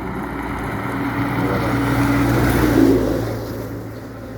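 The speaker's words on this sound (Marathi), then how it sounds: "गाड्या बघा किती स्पीडमध्ये येतात." Cars and vehicles rushing past at speed on the Mumbai-Goa highway, a broad roaring whoosh that swells to a peak midway and then fades, with steady wind rumble underneath.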